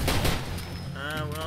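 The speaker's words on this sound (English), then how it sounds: "they're shooting at me" Enemy gunfire in the video game Far Cry 2 rattles in loud, dense bursts, with a voice talking over the shooting.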